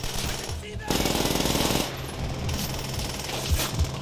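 Loud machine gun fire in Call of Duty: World at War rattles in a fast, steady burst. Scattered heavier shots and battle noise come before and after it.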